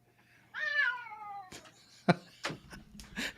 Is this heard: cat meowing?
yes